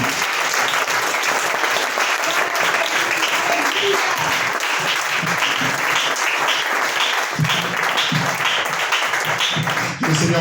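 A church congregation at a special Sunday service applauds and cheers for Jesus, steady loud clapping from a large crowd that fills the whole stretch without letting up.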